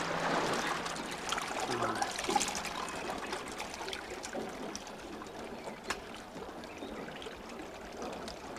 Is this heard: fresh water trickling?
yes